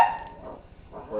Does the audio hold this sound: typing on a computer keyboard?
no